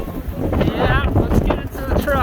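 Strong gusting wind from a 100 mph windstorm roars into the microphone with heavy rumbling buffeting throughout, and a person talks faintly beneath it.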